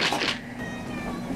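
A cat gives a short meow, followed by a quieter second cry, fairly close with light background hiss.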